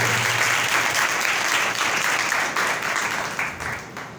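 A church congregation claps loudly together in a dense, sustained burst after a call to applaud Jesus' resurrection, fading slightly toward the end.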